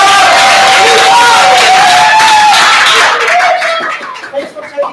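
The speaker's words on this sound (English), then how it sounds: "Applause for Lisa!" Audience applause and cheering from a crowd at a beer-tasting event, loud and dense at first with whistles and voices mixed in, then thinning into scattered claps and chatter.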